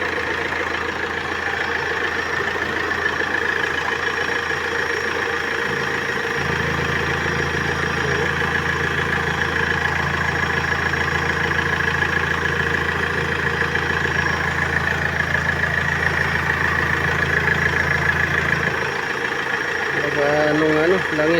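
A car engine with strong blow-by idles close by in a steady rumble, a deeper, heavier drone joining for a long stretch in the middle, with a voice talking over it.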